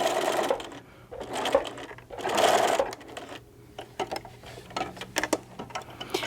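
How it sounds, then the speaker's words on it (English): A sewing machine runs in short bursts, back stitching at the start and end of a seam on a small fabric gift card holder, with clicking mechanism sounds between the close, moderately loud runs. "Back stitching where you started and where you ended."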